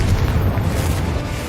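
Bomb explosion in the wizarding game Hogwarts Legacy, a single loud, deep booming rumble that fills the moment without a sharp attack, heavy in the low end.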